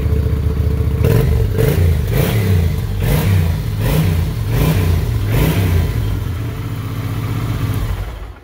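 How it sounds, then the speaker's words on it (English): A stock 2006 Kawasaki Drifter 800 cruiser motorcycle revs close by, its engine rising and falling in a series of deep, throaty blips over a rumbling idle, with no talk. "Motor's got some girth to it. It sounds like it's got some beef and some heft."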